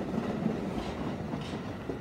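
Train sound effect with a steady rumbling roll and faint clickety-clack of railroad cars, moderately loud and continuous with no voices.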